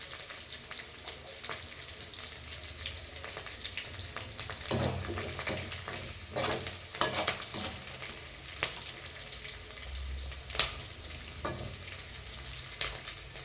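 Onions, chili, mustard seeds and curry leaves fry in hot oil in a home kitchen, giving a steady sizzle broken by sharper crackles and pops and occasional stirring clatter, with no talking.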